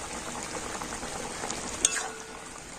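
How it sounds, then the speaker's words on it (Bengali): Pointed gourd and egg curry bubbles and sizzles steadily in a pan as it is stirred after garam masala goes in, a dense close hiss with a brief clatter near the end and no voices. "গরম মশলা গুঁড়ো দিয়ে আর নাড়াচাড়া করে আমি নামিয়ে নেব"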